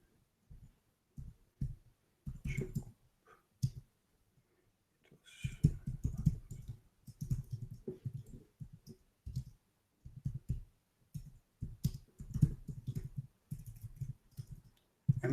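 Irregular bursts of clicky computer-keyboard typing in short clusters with pauses, close and fairly quiet, no talking.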